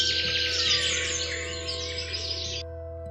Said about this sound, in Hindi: पक्षी चहचहाने के बजाय चीखते हुए अपने घोंसलों की ओर भागते।